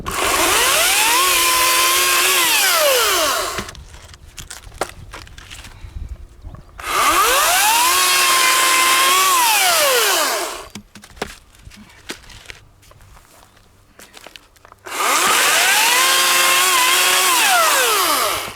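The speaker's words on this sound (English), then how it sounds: "I absolutely love this chainsaw." A Ryobi 40V electric chainsaw whines loudly through three long cuts into wood, its pitch dipping under load, with quieter pauses between each cut.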